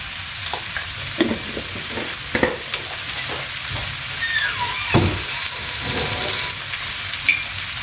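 Fried rice with chicken sizzles in a pan, with steady frying hiss, scraping and stirring clatter and occasional knocks of a utensil against the pan.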